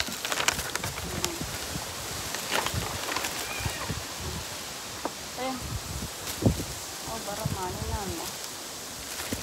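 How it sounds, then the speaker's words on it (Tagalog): Strong wind blows outdoors as a steady, rough rush with rustling and gusty bursts, while a person talks over it throughout. "Masyadong mahangin."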